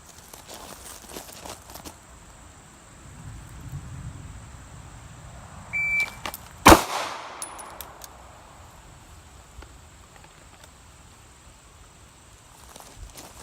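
A single sharp pistol shot cracks out midway through a live-fire shooting drill, sudden and loud against a quiet outdoor range background, with faint shuffling before it.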